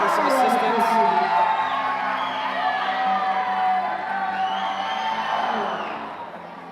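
A crowd at the Yank N Yard finals whoops, yells and cheers loudly, the roar swelling and then fading toward the end.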